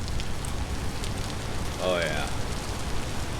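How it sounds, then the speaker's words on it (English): Steady rain falls in the Vintage Story survival game, set in a lush redwood forest, making a dense continuous hiss throughout while a person speaks briefly partway through. "Ah, beautiful rain."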